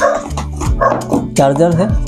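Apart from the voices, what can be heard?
dogs barking outside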